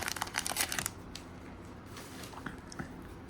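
Crinkly tearing and rustling of foil wrappers as 1991 Fleer basketball card packs are ripped open, a busy burst of crackles at first, then quieter intermittent crinkles and shuffles, close by.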